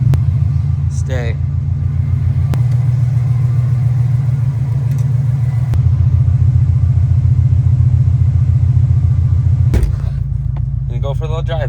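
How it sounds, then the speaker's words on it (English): A Subaru STI drives on the road, its engine giving a steady loud low rumble throughout, with a brief sharper noise near the end and speech heard over it. "And go for a little drive, buddy."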